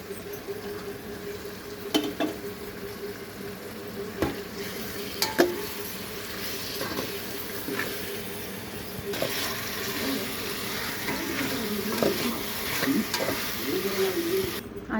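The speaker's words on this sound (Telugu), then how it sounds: "అలాగే మ్యారినేట్ చేసి పెట్టుకున్న చికెన్ వేయాలి" Marinated chicken fries in a pan for Andhra-style chicken pulao, a moderate sizzle with irregular spoon clanks and scrapes, plus a faint bubbling undertone near the end.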